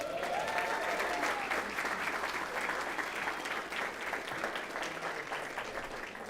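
A board meeting audience gives a sustained round of applause honoring a district championship girls' team, dense steady clapping filling the room throughout.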